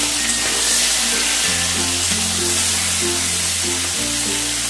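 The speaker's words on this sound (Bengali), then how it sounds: "তেল গরম হয়ে গেছে, এবার আমি মাছগুলোকে দিয়ে দেবো। মাছগুলোকে দিয়ে আমি একটু এপিট ওপিট করে ভেজেই নামিয়ে নেব।" Prawns fry in hot oil with a loud, steady hiss and crackle, close by, over a low droning hum that starts and stops, with no voices.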